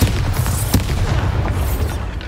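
Bombarda blasting spell in Hogwarts Legacy explodes as a loud, deep rumbling boom with a sharp crack near the start, followed by a continuing rolling roar.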